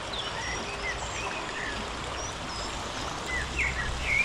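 A pretty river flowing steadily past stones and weed beds, a continuous close wash of running water with a few faint bird calls above it, no voices.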